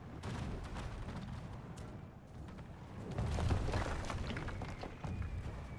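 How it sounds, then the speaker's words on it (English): A wall collapsing in a real-time strategy game, a low rumbling crash with crumbling debris under a steady wash of distant battle noise, swelling midway then settling, no voices. "Looking to destroy this wall now."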